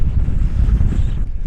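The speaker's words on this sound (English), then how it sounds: "It is super windy up here" Strong wind buffets the microphone on a hilltop more than 200 meters up, a loud continuous low rumble with no voices.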